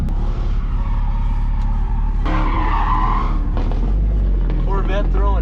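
A Corvette drifts on a race track at a drift event, heard from close by. Its engine roars loudly and steadily, and its tires squeal in rising, wavering bursts near the end.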